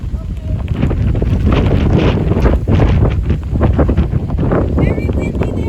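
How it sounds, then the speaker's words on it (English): Strong wind near a bayou buffets the microphone in continuous loud gusts and rumbles, with rustling in the background. "Very windy there too."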